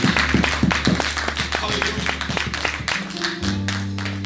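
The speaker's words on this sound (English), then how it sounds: "Come on, clap those hands so they can." Congregation clapping hands in rhythm during an altar call at a church service, steady claps over loud organ and music, with a voice talking throughout.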